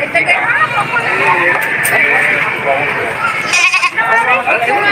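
Several Anglo-Nubian goats bleat in overlapping, quavering calls close by, with background voices and a passing vehicle hum.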